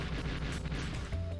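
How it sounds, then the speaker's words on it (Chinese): Bomb blasts in the video game Chessplosion, a chess and bomb game, come as a dense run of loud booming bursts and crashes layered with game sound. "我爆了！"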